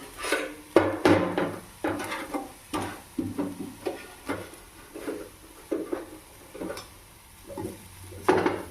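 A spatula scrapes and knocks rhythmically in a pan of frying food on a low gas flame, about a dozen distinct strokes roughly every half second, with a faint sizzle underneath, close and fairly quiet.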